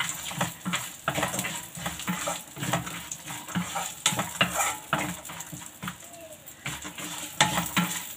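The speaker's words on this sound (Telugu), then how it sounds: "జీడిపప్పు వేసుకుందాం. దీన్ని ఫ్రై చేద్దామండి." Cashews and almonds frying in a pan for semiya kesari, with a steady close sizzle broken by frequent scraping stirs of a spatula against the metal, and no one speaking.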